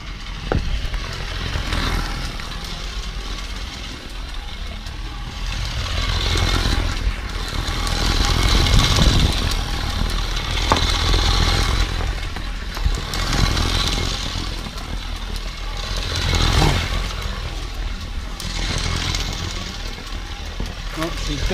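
A snowmobile sled with a wing on the back runs steadily outdoors, its engine drone rising and falling in repeated surges at moderate distance while voices talk intermittently over it.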